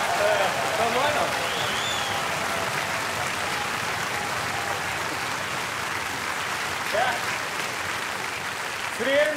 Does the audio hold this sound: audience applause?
yes